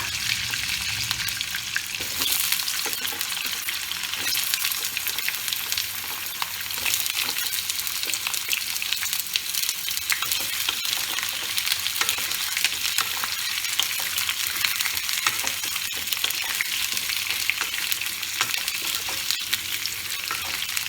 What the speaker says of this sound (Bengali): কুমড়োটা ভাজা হোক,